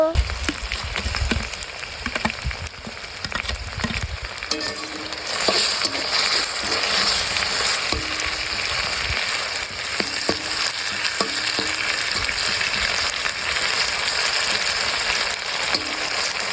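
Spice pastes of cumin, ginger and cashew hit a hot pan together and fry with a steady loud sizzle, broken by scraping and stirring clatter, while a voice speaks over the cooking.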